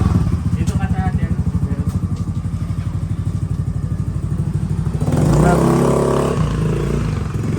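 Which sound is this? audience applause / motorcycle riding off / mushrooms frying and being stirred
motorcycle riding off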